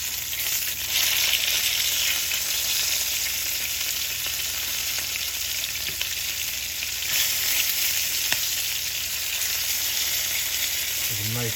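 Chicken pieces searing in a hot frying pan, a loud, dense, continuous sizzle filling the whole stretch, close up, with occasional faint clinks and no speech.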